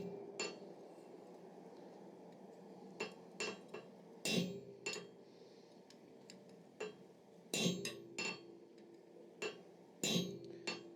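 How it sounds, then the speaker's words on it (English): A chisel is struck to cut lines into metal. Sharp metallic taps ring out singly and in quick pairs at irregular intervals, fairly faint over a quiet hum of workshop background. "We can now take a chisel and come and put our lines on."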